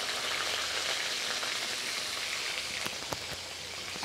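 Steady hiss of hot oil sizzling, with a few sharp crackles and pops near the end as chilies and onions hit the pan.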